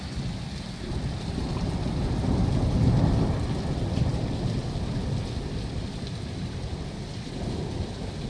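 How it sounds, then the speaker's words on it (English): Steady rain falls outside a hotel window with a low rumble of thunder swelling in the middle, a continuous wash of downpour with no voices. "It's raining."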